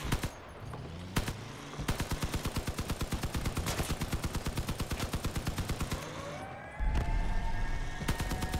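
Long-range gunfire in the vehicle combat game Crossout, a steady run of evenly spaced rapid shots over several seconds, with scattered single bangs before and a louder blast and rising siren-like whine near the end.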